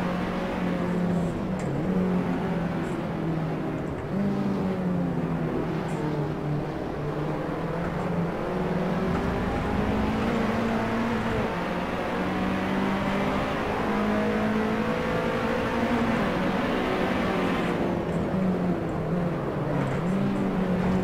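A Lotus 211 race car engine in the racing game Assetto Corsa runs continuously and loud, revving high through the gears with rising and falling pitch as the car accelerates on track, with no voices.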